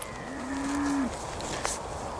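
A single clear moo from cattle in a herd of dry cows and heifers, one drawn-out call lasting about a second over quiet outdoor background.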